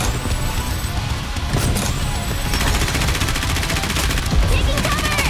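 Rapid bursts of gunfire crackle in the shooting game NIKKE: Goddess of Victory, dense and continuous across the stretch, mixed with impact crashes and in-game effects.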